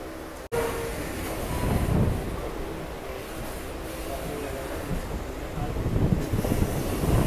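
A slow passenger train travels from Karjat to Khopoli, giving a steady close rumble and rattle of carriages on the rails. A sharp knock is heard near the start, and the noise swells slightly toward the end.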